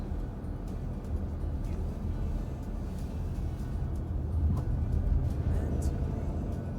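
Car driving up a country road toward a winery, giving a steady low rumble of engine and road noise with faint interior sounds and no one talking.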